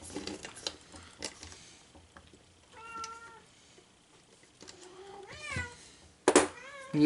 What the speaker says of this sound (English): oh, Kitty's got her toys